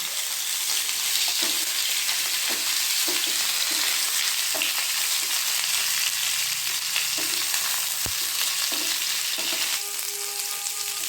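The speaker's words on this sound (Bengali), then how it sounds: "ফুলকপি, আলু আর গাজর, এগুলোকে আমি আগে দিয়ে দিচ্ছি, আগে দিয়ে একটু ভেজে নিচ্ছি।" Cauliflower, potato and carrot pieces frying in a pan for a mixed vegetable dish, with a loud steady sizzle close by and soft periodic stirring taps and one sharp knock, and no speech.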